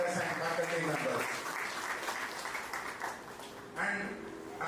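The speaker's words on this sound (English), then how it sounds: "Give big round of applause for your mentors and faculty members." An audience at a PGDM graduation event claps for mentors and faculty, giving a steady round of applause that carries on for several seconds and swells again near the end.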